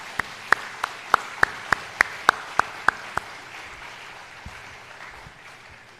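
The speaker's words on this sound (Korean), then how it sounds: "다시 한번 힘찬 위로와 격려의 박수 하겠습니다" A church congregation claps in a Korean worship service, about ten sharp, evenly spaced claps in a steady rhythm, fairly close and clear, then falling quiet over a faint background murmur.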